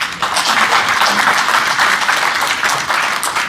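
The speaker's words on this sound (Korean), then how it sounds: "박수로 환영해 주십시오." Dense, steady audience applause fills a hall at a book launch event in Daegu, welcoming a guest speaker to the stage; loud and continuous throughout, with no voices over it.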